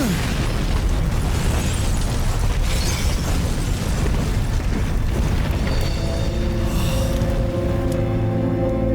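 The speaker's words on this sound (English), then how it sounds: "Carlos had to escape from that explosion." Hospital blown up by a bomb in the video game Resident Evil 3: a massive, sustained roaring explosion with rumbling booms and crackling debris, loud and continuous before fading into a low tonal drone near the end.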